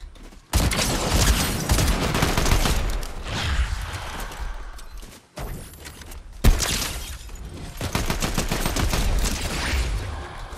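Gunfire in a Fortnite Zero Builds duos-versus-squads match: loud rapid bursts and repeated close shots crackle almost continuously, broken by a short pause in the middle before more heavy firing resumes.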